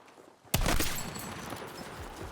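After a brief quiet moment, a sudden burst of rapid gunfire from the video game Battlefield 6 erupts close and loud, then trails off into scattered echoing shots.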